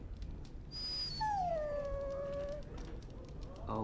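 A dog in the video game Dragon Age Origins whimpers with a long high whining howl that bends downward, alone over soft background ambience with no talk.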